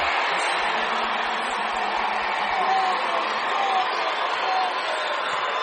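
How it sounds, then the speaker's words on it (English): Spectators at a Minnesota state Class 4A boys' basketball title game roar after a dunk, a dense, sustained wash of crowd cheering and noise filling the gym while a commentator's voice carries over it. "That gets the Apple Valley crowd going."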